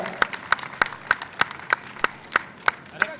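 Slow, evenly spaced claps ring out at a meeting of cobbler community members, about ten sharp beats at a steady rhythm, fairly faint and alone rather than a full crowd ovation.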